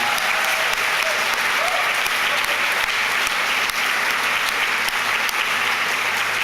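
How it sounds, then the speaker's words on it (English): A packed audience at an evening Extinction Emergency event gives loud, sustained applause, dense clapping filling the room evenly from start to finish. "I'd especially ask you to just keep clapping for Richard Di Natale and his office"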